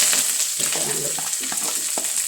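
Onion, ginger, green chili and curry leaves sizzle steadily in hot oil with mustard seeds, a close, continuous frying hiss with faint stirring and no voices.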